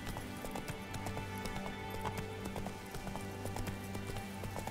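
Rapid, rhythmic hoofbeats of a galloping horse in The Witcher 3: Wild Hunt continue evenly throughout, with a synthetic, game-like quality and no speech.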